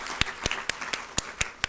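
About seven sharp claps ring out in a quick, even rhythm at a State of the County address, each one crisp and distinct against a quiet room.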